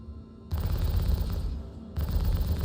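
Turret guns on a Drake Cutlass Blue spaceship in the Star Citizen video game fire in two loud, sustained rapid bursts, close up over a low engine hum.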